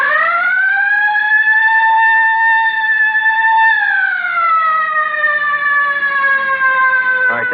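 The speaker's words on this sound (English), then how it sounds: "All right, hit the siren." A loud police car siren wails in a long, slowly rising then falling tone, close and steady, ending abruptly.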